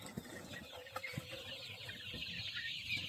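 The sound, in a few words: golden chickens clucking on a poultry farm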